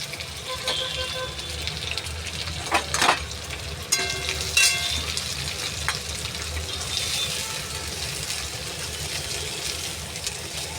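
Chopped onion and capsicum hit hot oil in a pan where chicken was just fried for chilli chicken, a steady loud sizzle with a few scraping stirs and clinks.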